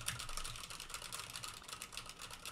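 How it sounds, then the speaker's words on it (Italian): Typing on a mechanical keyboard with Cherry MX Red switches gives rapid, irregular clicky keystrokes in a steady patter, close and fairly quiet, with no voices. "sto pigiando sulla mia tastiera meccanica che ha degli Switch Cherry MX Red, quindi non sono tra i più silenziosi"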